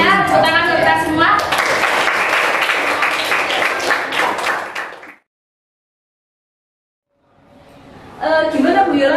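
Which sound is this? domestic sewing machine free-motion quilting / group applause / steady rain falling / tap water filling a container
group applause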